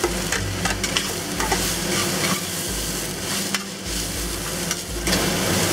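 Mushrooms stir-frying with ginger and garlic in oil in a pan, a steady close sizzle broken by repeated scraping stirs for the whole stretch, with no talk over it.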